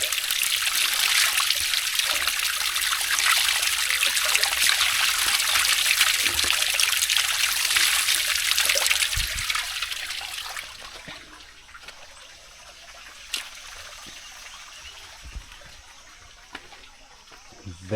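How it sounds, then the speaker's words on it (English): Fresh water trickling in a village setting, a bright steady splashing flow for several seconds that then fades to a quieter, sparser dribble with occasional soft knocks. "This water is very fresh."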